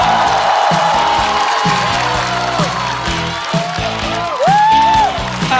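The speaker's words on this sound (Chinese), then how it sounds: "掌声欢迎毛豆" A stand-up comedy audience cheers and applauds to welcome a comedian onstage, a steady loud wash of crowd noise with scattered whoops, while stage music plays underneath.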